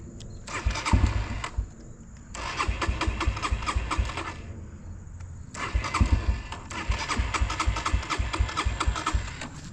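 A dirt bike engine cranks, catches and revs in loud close bursts, cutting out between attempts and starting again, with a steady buzzing idle and rough putter underneath.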